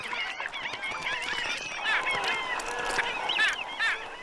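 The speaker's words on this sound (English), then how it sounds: "Black skimmers move inland from the coast, and egrets gather by the hundreds." Many wading birds call at once across Amazon shallow pools where black skimmers and egrets gather, a dense overlapping chorus of honking and squawking at steady moderate loudness, with no talk.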